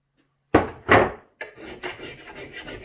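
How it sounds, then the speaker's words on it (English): A 25-inch Stihl chainsaw bar is dressed with a file, giving two firm rasping strokes and then a run of lighter, rhythmic scraping strokes, close and clear with no talk. "I'm just dressing bars and making sure the oil holes are clean."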